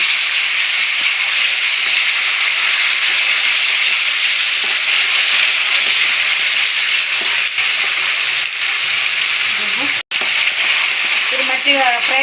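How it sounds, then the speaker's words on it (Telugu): Onion paste, pounded in a stone mortar for Telangana-style bagara chicken curry, fries in a pan with a loud, continuous close sizzle and hiss. Stirring scrapes run through it, and a few clinks come near the end. "మంచిగా ఫ్రై అవ్వాలమ్మా. ఓకే. మంచిగా అసలు పోవాలి ఉల్లిగడ్డ."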